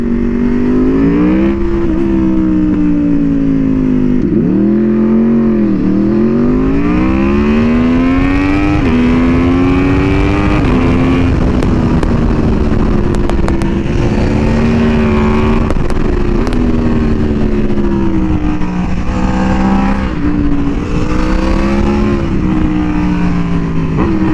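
An Aprilia Tuono V4R motorcycle engine roars loudly and continuously on a bumpy twisty road, its pitch swooping down and up through revs and shifts, with crackling exhaust pops scattered through the ride.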